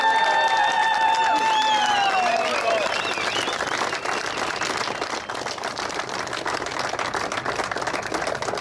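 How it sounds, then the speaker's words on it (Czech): Sustained applause from a sizable crowd at the Dobšinský kopec hill climb race in Slovakia rises as a Slovak announcer's voice trails off, continuing as a dense, even wash of clapping. "Obrovský potlesk pre..."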